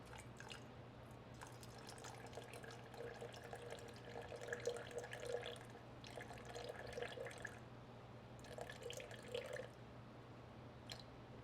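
Water trickling and splashing into a bowl while making sourdough bread, a steady faint pour with intermittent dripping bursts over a low background hum.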